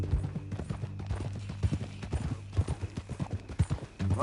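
A horse's hooves clip-clop steadily at a walking pace in the Red Dead Redemption 2 video game, over a low ambient hum.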